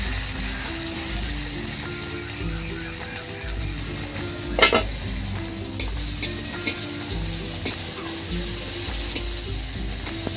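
Tomatoes sizzle in a pan with onion that is already fried, giving a steady hiss of frying with a few sharp clinks of stirring near the end.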